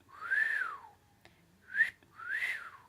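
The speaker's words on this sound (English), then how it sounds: "Can you whistle?" A person whistles three clear, loud notes up close: a long gliding tone, a short sharp chirp, then another long sliding tone, separated by brief pauses.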